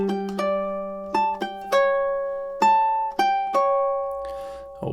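Ukulele picks out a descending melody from a TV theme, clear plucked notes ringing over a sustained low tone in a slow, loose rhythm, close and solo with no voices.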